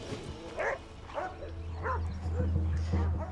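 Several dogs at a veterinary gathering in the Ahousaht community bark, yip and whimper in short repeated bursts close by, mixed with people talking.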